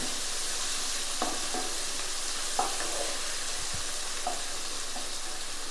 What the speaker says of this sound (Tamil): தக்காளியும் சேர்த்து இதை நல்லா ஃபுல்லாக எல்லாத்தையும் மிக்ஸ் பண்ணிடுவோம்.